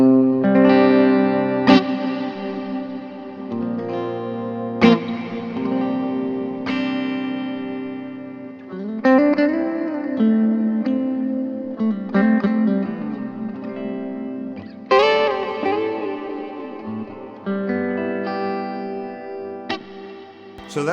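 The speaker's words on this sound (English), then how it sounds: "So that's the Hall setting on a pedal." An electric guitar plays slow chords and single notes through a Walrus Audio Descent reverb pedal on its hall setting, each attack trailing off into a long, lush wash of reverb.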